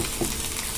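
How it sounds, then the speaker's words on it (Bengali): Spice masala with ginger paste frying in a pan, a close, steady sizzle with a faint stir partway through. "দিয়ে মশলাটা কষে নেব ভালো করে ভেজে নেব"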